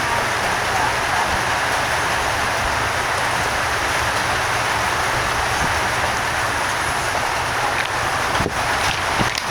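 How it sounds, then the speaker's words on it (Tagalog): Steady loud rain hisses continuously, with a few faint knocks near the end. "Umuulan guys."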